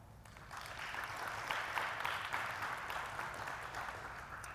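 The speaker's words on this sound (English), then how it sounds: "Can I get a round of applause for Leanne?" A pageant audience at Miss Roy 2020 applauds honorary Miss Roy Leanne, a sustained, even wash of many hands clapping that swells slightly and holds for several seconds without speech.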